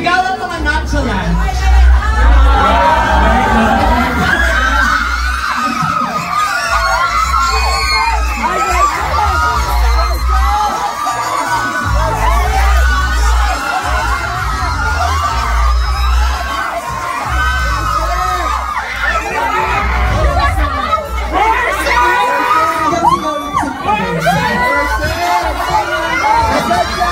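A large crowd at a PLDT Home event in SM Megamall shouts, cheers and whoops without letup, with many overlapping voices, children among them, loud and close throughout.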